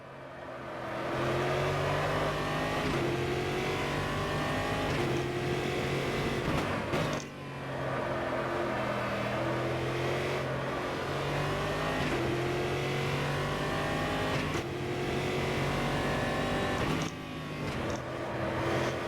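A stock V8 race car engine in a Watkins Glen racing game howls loud and close through a flying lap, climbing through the gears in long pulls with brief dips at each shift and one deeper lift mid-lap.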